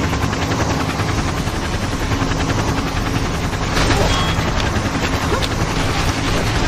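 Helicopter in the shooter game Dead Trigger 2, a steady loud rotor drone filling the whole stretch, with faint bursts that may be gunfire underneath.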